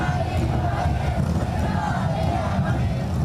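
Welcoming crowd waving national flags at Xi Jinping's arrival in Brasília: a dense, steady hubbub of many voices and distant cheering, continuous and fairly loud throughout.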